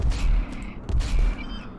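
Bursts of gunfire from the Rimworld video game during combat, with dense repeated booming shots in two loud clusters, continuous and fairly near, with no talk over them.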